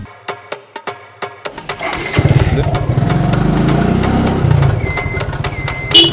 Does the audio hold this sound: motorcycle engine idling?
yes